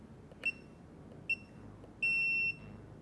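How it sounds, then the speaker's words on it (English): Three electronic beeps from a Blade 150 FX helicopter radio transmitter trim: two short chirps, then a longer steady half-second tone marking center, quiet and close against faint background hiss. "you'll have to listen for the long beep"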